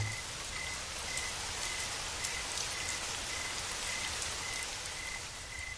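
Steady, even rainfall patters down continuously, a dense hiss of drops on surfaces with a faint repeating high tone in the background.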